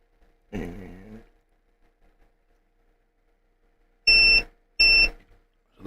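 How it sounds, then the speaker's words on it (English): A Dell Latitude 5300 laptop gives two short, identical electronic beeps close together, clear and loud, following a brief low vocal sound and a pause of near silence. "I heard some beep."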